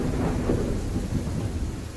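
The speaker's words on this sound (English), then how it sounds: "it's raining outside, and the thunder and lightning in this map is pretty loud" A dense, loud roar of thunder rumbles over steady pouring rain in a horror video game mansion map, continuous and enveloping with no voices.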